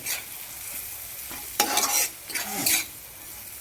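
Red chili powder gets stirred into spices frying in oil. There is a faint background sizzle, then two short scraping, stirring bursts close by.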